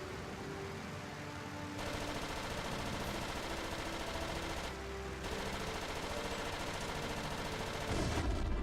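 Sustained rapid gunfire aimed at a ship in a flight video game, a dense continuous rattle of shots with a brief pause midway and heavier blasts near the end.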